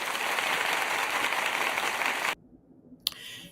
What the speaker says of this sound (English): Let me put the claps on for her.